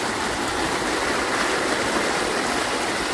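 Rainwater runoff from village farm fields after a heavy downpour rushes steadily down a slope, a dense, continuous close-up roar of flowing water with no talk.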